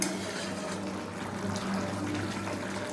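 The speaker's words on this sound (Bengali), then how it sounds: "ব্যাস একটু ফুটে গেছে, এবার আমি নামিয়ে নেবো।" A Bengali curry, brahma jhol with chopped coriander, simmers in a pot, giving a continuous close bubbling and soft liquid churning hiss throughout with no talk.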